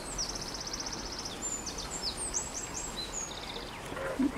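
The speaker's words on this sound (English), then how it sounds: "Hear the birds singing." Several birds chirp and trill outdoors in a eucalyptus grove, their repeated high calls faint against a steady background hiss with no talk.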